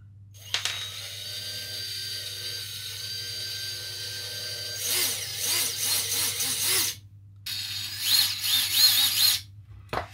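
A model aircraft motor in a thrust-vectoring canard build spins up under throttle on the bench, a steady whining buzz that rises in two louder bursts with a brief drop between them.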